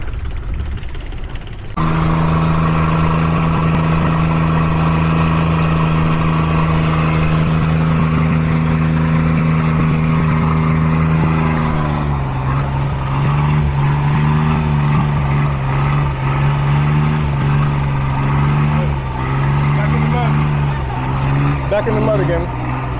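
A small engine hums steadily and loudly up close outdoors in a muddy national park at Sam Roi Yot, Thailand, holding an even drone before its pitch wavers and dips partway through.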